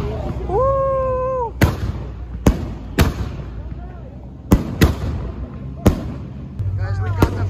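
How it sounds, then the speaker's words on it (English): Sharp fireworks bangs pop at irregular intervals at a Los Angeles car meet, about seven loud cracks, with a whistling rise at the start and people talking between bursts. "we got the fireworks"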